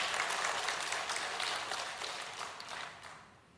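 A church congregation applauds during a Sunday sermon, dense sustained clapping filling the room and fading slightly toward the end.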